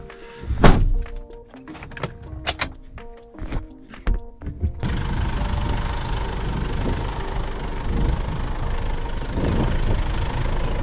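A diesel truck engine idles in low gear on a farm, a steady close rumble that settles in after a few seconds of heavy thumps and knocks.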